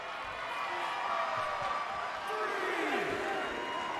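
A wrestling arena crowd in WWE 2K20 keeps up a steady roar and cheer, moderately loud and continuous, with someone talking over it.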